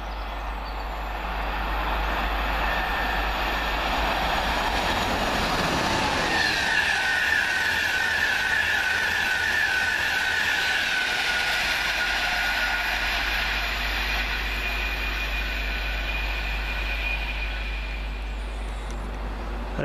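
A London King's Cross to Edinburgh Waverley passenger train speeds past at Welham Green, a loud, sustained roar of wheels on rails that rises, holds with a high whine, then slowly fades.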